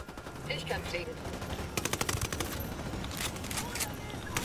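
Bursts of rapid automatic gunfire aimed at a helicopter in Ghost Recon Wildlands, loud crackling volleys coming in clusters, especially in the second half, over background game noise.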